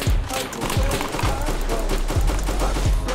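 Rapid bursts of video game gunfire on Brooklyn streets, a quick series of sharp repeated shots crackling close and loud over about three seconds.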